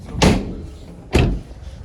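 A van's door is closed twice at a used-car market in Lutsk, two solid thuds about a second apart, close by and loud, with quiet surroundings between them.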